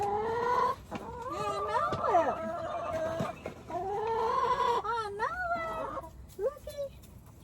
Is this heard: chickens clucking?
yes